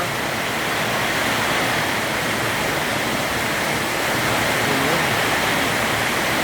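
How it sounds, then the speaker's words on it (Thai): Steady, dense wash of heavy rain roaring without pause during a storm, with a constant gusting hiss of wind, loud and close throughout. "ตกแรงมากครับต่อเนื่องเลยทั้งลมนะครับ"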